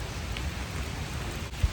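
Steady rain falls around a lake on a warm morning in Perth, Western Australia, a dense continuous hiss with a single low thump near the end.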